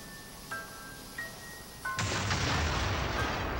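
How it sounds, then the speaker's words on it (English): An explosion in the video game Beyond Good and Evil: a few small beeps and clicks lead into a sudden loud blast that holds as a dense, roaring wash to the end, with no voices. "Alright, he's even gonna explode."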